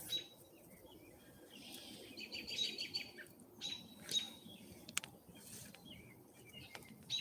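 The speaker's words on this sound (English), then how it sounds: "there's also a catbird sounding really ticked off." A gray catbird calls in agitation outdoors. Faint, scattered chirps and harsh notes repeat at irregular intervals over quiet background ambience.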